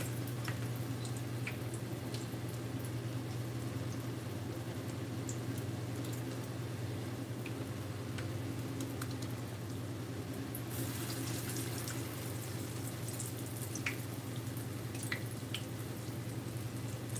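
Salmon croquettes fry in hot grease with a steady, continuous sizzle and crackle, a low constant hum beneath it, and the hiss grows brighter partway through with a few scattered pops.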